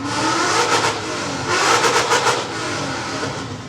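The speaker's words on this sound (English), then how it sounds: "Competition's revving their engines." Drift car engines rev loudly nearby at a USDriftcircuit ProAM event, rising and falling in a couple of throaty surges over a continuous rumble.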